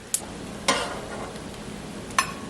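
Eggs fry quietly in a pan with a steady low sizzle, broken by a few brief scraping taps of a utensil.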